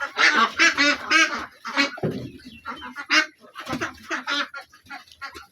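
Khaki Campbell ducks kept on a small farm, a loud close flock quacking and honking in repeated bursts with short gaps, fairly noisy and clear with little talk.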